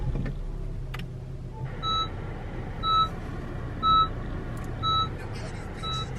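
A Honda car gives a repeated electronic warning beep because it needs a new key fob, five evenly spaced chimes about a second apart over a low background rumble.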